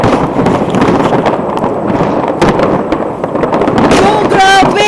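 Fireworks display in Copenhagen, Denmark, with dense continuous crackling and popping bursts throughout, loud and close, with a few sharp reports and whistling rising tones near the end, people talking faintly beneath.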